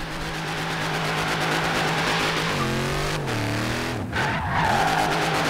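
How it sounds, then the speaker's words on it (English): A car in Forza Horizon 3 drifts with sustained tire squeal and a droning engine that sweeps down and back up in pitch, loud and close, with no talking. "The car won't stop drifting."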